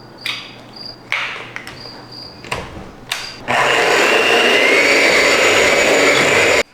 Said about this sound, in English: I'm just gonna get my egg beater and we'll beat this all up